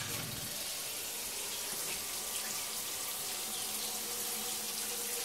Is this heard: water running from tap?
yes